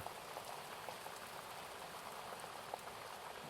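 Water laps along a loch shoreline as a soft, constant wash of small splashes and trickles, even and gentle with no voices.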